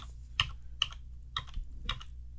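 Four sharp, evenly spaced keystrokes on a computer keyboard, quiet and close against a low background hum, with no talking.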